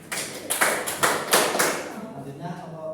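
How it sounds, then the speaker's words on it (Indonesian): Brief applause from a microteaching class, a few clustered claps in the first two seconds under talk, fading into quiet room murmur. "Beri tepuk tangan"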